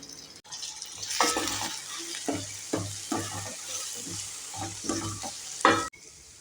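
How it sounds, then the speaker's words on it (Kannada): Goli greens (purslane) fry in a pan with soaked moong dal, a soft continuous sizzle broken by a series of distinct stirring scrapes and clinks of the spoon, close with no talking. "ಇವಾಗ ಸೊಪ್ಪು ಹಾಕಿದ ನಂತರ ಎಲ್ಲ ಒಂದ್ಸಲ ಮಿಕ್ಸ್ ಮಾಡ್ಕೊತಾ ಇದ್ದೇನೆ"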